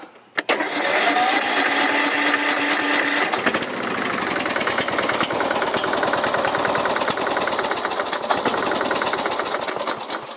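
A riding lawn mower engine running on propane starts with a thump and then runs loud and close with a fast, steady mechanical chatter that roughens and surges slightly partway through.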